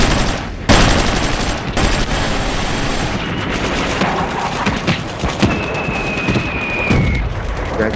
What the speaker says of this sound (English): And a German machine gun is brrt, brrt, brrt, brrt.